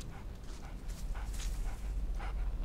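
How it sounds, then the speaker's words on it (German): A few muffled dog barks sound at a distance over a low, rumbling background, from the horror video game Obscuritas. "Das war ein Hund oder sowas."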